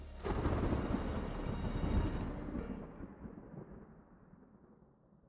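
A thunderstorm with torrential rain: a deep roll of thunder over heavy rain, loud at first and then fading away into quieter rainfall.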